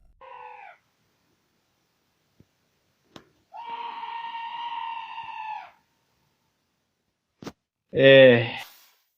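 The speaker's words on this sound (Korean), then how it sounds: "어둠 속에서 점점 더 가까워지는 듯한 끔찍한 비명 소리를 듣기 시작했어" Terrible screaming at night near a bridge at about 3:30 a.m. comes as a few separate wailing, tonal cries with silence between them, the last one louder and closer, plus a couple of sharp clicks.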